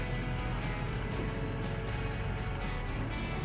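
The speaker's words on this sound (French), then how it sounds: "notre Royal Enfield classique aime être une route secondaire en 5e vitesse, bien relax" A Royal Enfield Classic 500cc motorcycle cruises in fifth gear on a secondary road, giving a steady, low, relaxed engine drone with faint wind noise and no change in pace.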